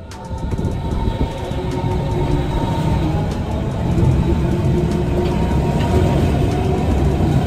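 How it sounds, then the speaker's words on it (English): A metro subway train on an urban rapid transit line rumbles steadily throughout, a continuous low roar with faint squeals above, loud and close as if heard from on board, with no talk. "Another term for a subway train, typically used in reference to urban rapid transit systems."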